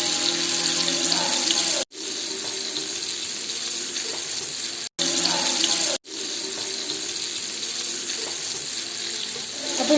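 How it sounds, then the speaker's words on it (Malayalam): Oat-coated chicken pieces fry in hot oil over a medium flame, giving a steady, loud, hissing sizzle that runs almost unbroken, with only a couple of brief gaps. "അപ്പോൾ ഞാനിത് ഫ്രൈ ചെയ്തെടുക്കാം. അപ്പോൾ എണ്ണ നന്നായിട്ട് ചൂടായിട്ടുണ്ട്."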